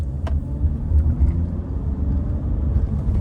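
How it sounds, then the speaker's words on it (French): A SEAT Alhambra 2.0 TDI diesel pulls hard in second gear just after a bend, its engine a steady, loud low rumble with a rising, continuous drone and no talk over it. "juste après le virage je vais accélérer un petit peu. Donc là je suis en seconde"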